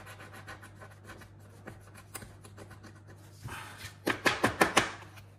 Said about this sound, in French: Parce que là, il y a plus de cases à gratter.